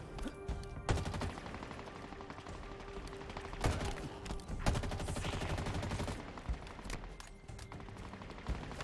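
Continuous rapid gunfire from Halo Infinite on Legendary difficulty, with dense automatic bursts and sharp louder shots cutting through a steady wash of combat noise.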